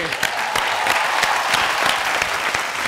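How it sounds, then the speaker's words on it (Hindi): Studio audience on a television game show applauds contestant Sanchita, a dense, steady wash of many hands clapping at close range, loud and sustained without a break and with no voices over it. "जोरदार तालियां संचिता जी के लिए"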